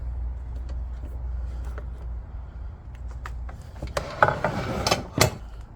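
Metallic clicks and ratcheting clunks come from the mitre angle lock being loosened and reset on a 15-inch Evolution EVO Max S15CPS cold cut saw with an aluminum base, over a low hum, with louder knocks near the end.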